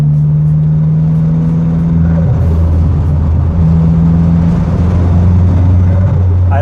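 A Bertone turbo four-cylinder Opel engine drones loudly up close, its pitch climbing and dropping as it revs through gears, with a steady rumbling undertone.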